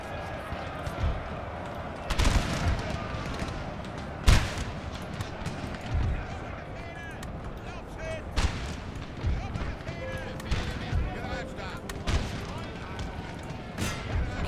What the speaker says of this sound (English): Canister shot. Cannons fire on the infantry.